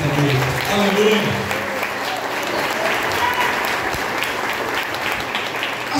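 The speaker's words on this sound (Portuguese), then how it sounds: "Aplauda o Senhor Jesus nesta noite" A church congregation applauding during an evening service, steady, full clapping from many hands in a reverberant hall, with voices and shouts of praise mixed in.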